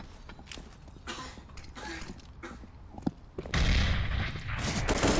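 AK rifle fire in Counter-Strike on the Overpass map: a few sharp, separate shots and clicks, then a louder burst of gunfire with dense noise near the end.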